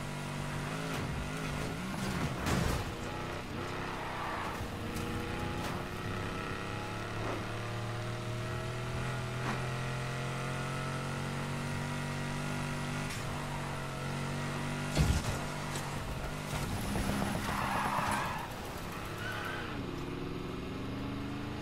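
A car engine drones steadily in Need for Speed Heat, its tone rising and falling gently while it revs without gear shifts, with a few sharp clicks and no talking.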